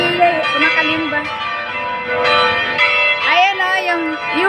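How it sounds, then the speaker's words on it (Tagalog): Several church bells clang together in a busy, overlapping peal with ringing tones, while a person talks over them amid a lively crowd. "Ayan, oh, kumakalimbang lang sabay-sabay."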